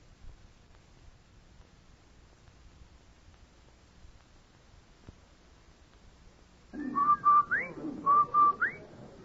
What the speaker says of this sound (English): Why, that's the Rinso White whistle